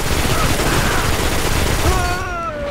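Sustained automatic gunfire from a recoil-less video game weapon, a dense continuous burst of rapid shots lasting nearly three seconds, loud and close, easing off at the end as tonal game sounds rise.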